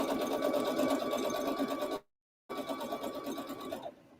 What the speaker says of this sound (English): This is the last little bit of sewing anyway.